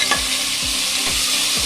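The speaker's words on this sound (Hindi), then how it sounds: "इसको भी 2-3 मिनट के लिए फ्राई कर देते हैं" Potato, cauliflower, peas, tomato and green chilies fry in a kadai with a dense, loud sizzle, while the spatula scrapes through rhythmically about four times.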